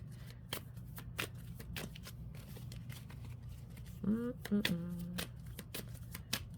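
Tarot cards being shuffled before a card pull, a series of crisp, close riffling and flicking bursts at an irregular rhythm, with a soft tonal murmur partway through and a quiet background hum.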